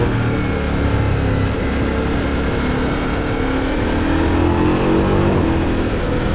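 A 2026 Ducati Multistrada V4 Rally motorcycle with a four-cylinder V4 engine and quick shifter accelerates, a loud, continuous engine drone with a slowly rising tone over wind rush, no talk.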